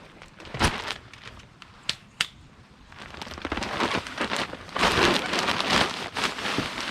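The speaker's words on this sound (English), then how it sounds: "It's starting to rain on me again." Rain falling steadily outdoors on a garden bed during a drizzly Pacific Northwest day, a continuous broadband hiss with scattered sharper drops, growing heavier and louder toward the end, with no talking.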